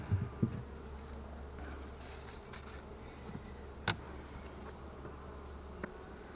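Steady low insect buzzing from many honey bees on hive frames, continuous throughout, with a few soft knocks and clicks of handling the frames on top.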